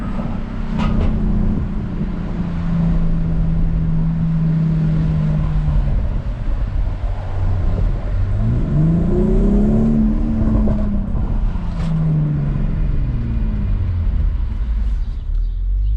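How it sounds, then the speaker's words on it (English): Close and loud, a 2019 BMW X3 M40i accelerates hard in Sports Plus mode, its engine droning steadily and rising in pitch through the gears with brief dips at each shift, the roar continuous for the whole stretch. "take the X3 M40i for a quick drive and see how it feels"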